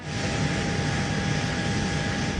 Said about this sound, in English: There's a plane because we have an airport here